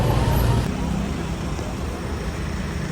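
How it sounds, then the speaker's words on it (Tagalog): Road traffic rumbles in a steady, moderately loud wash of passing engines and tire noise, with a heavier vehicle fading away early on. "Parang medyo traffic pa naman po"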